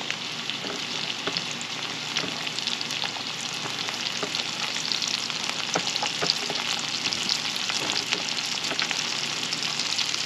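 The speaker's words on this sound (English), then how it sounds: "And we want to cook this down as well and get some caramelization." Sliced apples and onions frying in a pan, a steady close sizzle with scattered crackles and pops throughout, with no talk.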